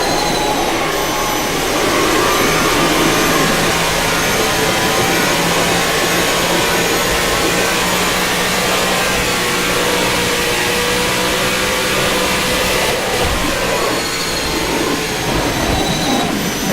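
A NASCAR stock car engine in the rFactor 2 racing game drones at a steady, loud, sustained pitch that seems stuck and never revs much higher, lasting throughout with no talking.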